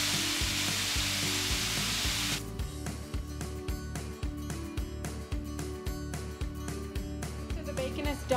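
Bacon sizzles in a pan with a steady frying hiss, then rhythmic tapping and scraping of a utensil joins it, close and moderately loud.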